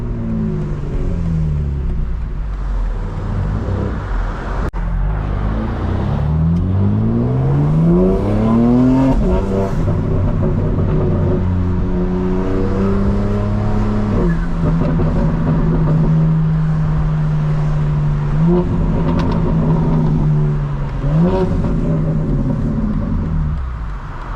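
A 2025 BMW M4 Competition engine revs and accelerates hard, its pitch climbing through gear changes and settling into a steady loud drone, with no talking.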